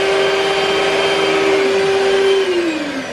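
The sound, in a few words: whisking meringue mixture in a bowl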